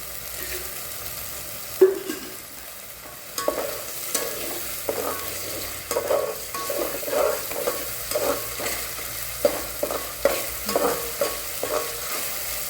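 Drumstick (moringa) vegetable frying in oil in a pan while being stirred, with steady sizzling and intermittent scraping strokes of a spoon against the pan, close by and with no voices.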